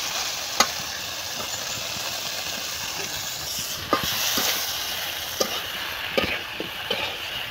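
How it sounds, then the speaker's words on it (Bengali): Vegetables drop into spices frying in a pan and are stirred, giving a steady broadband sizzle with a few sharp clinks and scrapes of the spoon against the pan. "মশলা দিয়ে কষাচ্ছে এখন ভাজা হয়ে গেল আর এই যে সবজিগুলো দিয়ে দিই"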